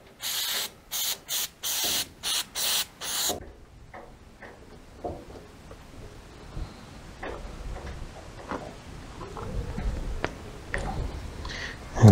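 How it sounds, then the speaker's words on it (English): Electrical contact cleaner is sprayed in a series of short, sharp aerosol bursts on the ignition of an Oltcit car. After that come faint mechanical ticks and clicks, and the quiet rustle of work nearby. "This is electrical contact cleaner rather than brake cleaner"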